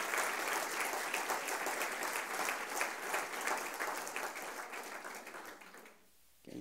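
Sustained applause from a large church congregation, dense and even clapping for several seconds before it quickly fades out.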